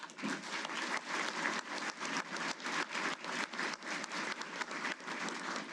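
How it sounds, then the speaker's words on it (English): An audience at a Hall of Fame ceremony gives a round of applause, a continuous, evenly sustained patter of many clapping hands, fairly distant and soft in level but unbroken across the whole stretch. "I would ask you all to give them a round of applause."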